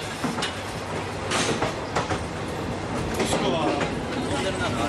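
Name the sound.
train riding on rails in western Japan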